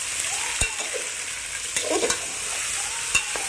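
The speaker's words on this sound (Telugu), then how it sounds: "బాగా కలుపుకుంటాం అడుగంటకుండా మనం హైలో పెట్టుకొని ఇవన్నీ ఫ్రై చేసుకుంటాం" Potatoes, carrots, beans and other vegetables stir-frying on high heat for vegetable pulao, a steady background sizzle broken by a few sharp scrapes and clacks of the spoon against the pan, with no talking.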